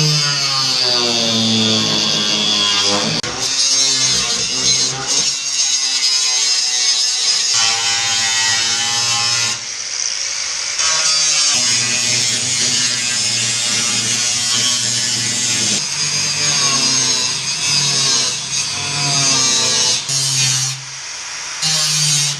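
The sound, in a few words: power tool cutting out rusted car rear floor pan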